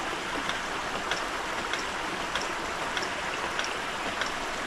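Water from a ram pump gushes in a steady, faint broadband rush with soft, regular pulses roughly every half second, and no voices over it.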